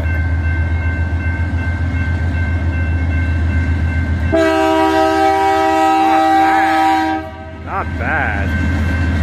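A train's horn sounds loud and close over the rumble of a passing train while railfanning on the Fourth of July, starting partway through with a long sustained blast, a brief break, then a shorter final honk.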